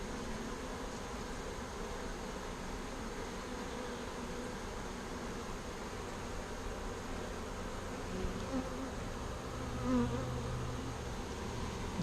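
A honey bee swarm gives a continuous dense buzzing hum at a steady moderate level throughout, with no speech.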